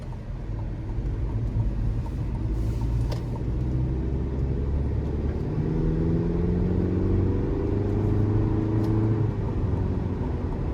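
A 2023 Chevrolet Colorado 4WD Trail Boss with the 2.7-liter turbocharged four-cylinder pulls from inside the cabin, its low engine drone rising and falling in pitch as it accelerates through gears over steady road rumble.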